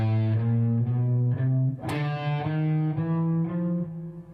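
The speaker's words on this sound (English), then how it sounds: "this exercise is based off of a 16th note pattern, which means you're going to be playing 4 notes per beat" An electric guitar with a distorted tone plays a steady run of sixteenth notes, four per beat, with every fourth note picked harder, the notes close and clear over a sustained humming low note.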